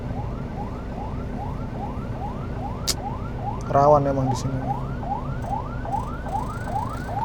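An ambulance siren warbles in fast, steady rising sweeps throughout on a road near Singosari market, heard from inside an Isuzu Panther, with a brief voice speaking partway through.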